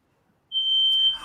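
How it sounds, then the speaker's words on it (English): An electronic smoke detector alarm suddenly sounds a steady, piercing high tone after a moment of near silence, with a faint burst of other noise at the end. "we got an alarm or something going on"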